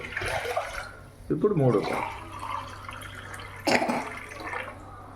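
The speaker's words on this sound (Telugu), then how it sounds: "3 పావులు వాటర్ వేసేసానండి" A short splash of water poured into a cooking pot, then a second brief pour, with a voice talking throughout.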